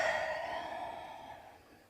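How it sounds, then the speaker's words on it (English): A single slow exhale during a basic yoga class, soft and close, fading away over about two seconds with no talking. "Breathe in and breathe out."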